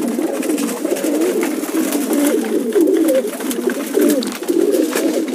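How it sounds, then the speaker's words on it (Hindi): Domestic pigeons cooing after eating grain at a home loft, a steady layered murmur of soft overlapping coos from several birds close by, continuous throughout with no talk. "दाना खा के घूम रहे हैं ये कबूतर अभी मेरे, और ये मेरे घर का कबूतर है।"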